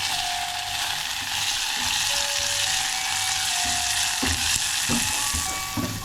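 Boiled mung beans and chopped tomatoes sizzle steadily in a hot pan, a loud continuous frying hiss with stirring clatter near the end.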